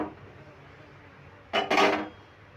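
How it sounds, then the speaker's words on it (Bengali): A metal kadai is set down on a gas stove, a short double clatter of metal on metal, close and clear after a quiet stretch. "আর কড়াইটাও বসিয়ে দিলাম।"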